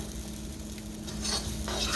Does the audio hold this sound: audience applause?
no